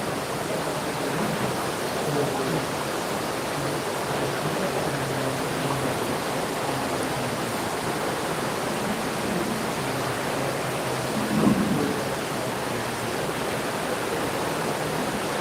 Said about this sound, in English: It's raining heavily. So much of sound is there.